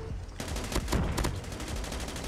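A helicopter-mounted machine gun fires in COD Mobile, a loud, dense run of rapid overlapping shots that begins abruptly and continues steadily to the end.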